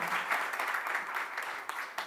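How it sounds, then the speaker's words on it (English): At a breast cancer awareness press event, an audience gives a round of applause, with a steady wash of clapping and a few sharper individual claps standing out, moderately quiet and continuous. "Big round of applause, ladies and gentlemen."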